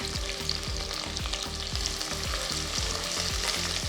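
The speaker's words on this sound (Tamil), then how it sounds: "வெங்காயம் ஒரு 2 நிமிஷம் நல்லா வதக்கணும்" Sliced onions, curry leaves and lightly slit green chillies fry and sizzle in a pan for Chettinad vengaya kosu, a continuous close hiss with a low repeating hum beneath and no speech.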